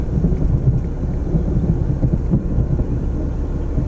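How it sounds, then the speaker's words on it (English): Rolling thunder from a storm, a steady low rumble filling the background throughout without any voices. "I don't know if y'all heard that thunder"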